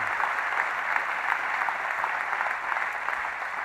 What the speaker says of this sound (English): Would you please give them a huge round of applause for their work?